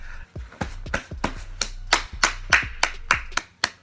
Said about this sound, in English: I'm clapping for you because you did your thing, bro.